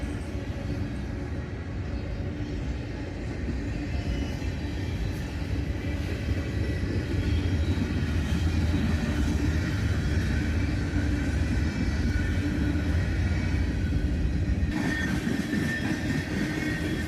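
A long CSX mixed manifest freight train rumbles past close by, a loud, continuous roar of wheels and cars that holds steady throughout.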